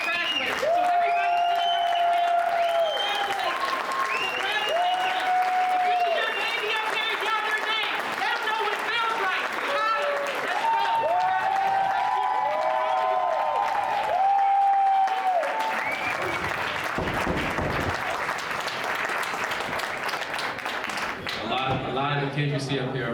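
Crowd applause and cheering for graduating students, dense and loud throughout, with music and voices running underneath the clapping for most of the stretch.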